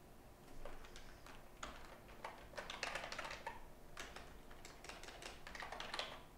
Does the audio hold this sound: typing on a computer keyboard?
yes